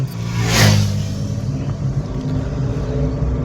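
A learner's car pulling away during a driving lesson, its engine swelling in a brief rising roar near the start before settling into a steady low rumble, close by and with no talking.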